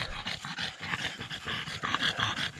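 Dogs panting hard in hot weather, rapid rhythmic breaths at close range with a faint whimper or two, no talking over it.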